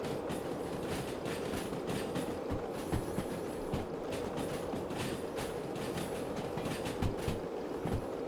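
British 0-6-0 steam locomotive rolling through the railway simulation game Derail Valley, a steady rumble with rhythmic wheel clicks over rail joints and occasional metallic squeals, continuous and close with no talking.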